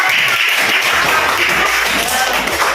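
A classroom group receives applause after their presentation: steady, dense clapping from many hands fills the room throughout, with some voices mixed in.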